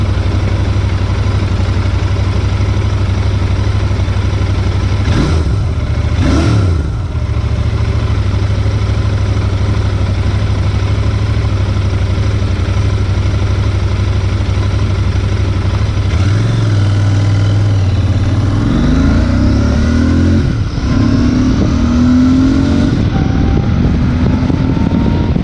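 A Royal Enfield INT 650 motorcycle runs loud and close with a steady low engine hum, broken by short throttle blips and a rising acceleration sweep toward the end.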